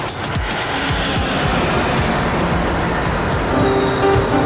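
A Montreal metro train runs through an underground tunnel, with a loud continuous rumble and rattle of cars and wheels, plus faint high squeals near the end, close and enveloping.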